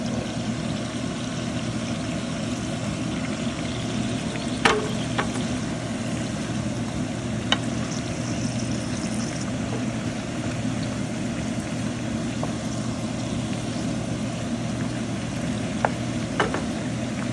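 Brinjal curry frying on medium heat in a pan, a steady broadband sizzle running throughout with a few brief clicks of stirring against the pan.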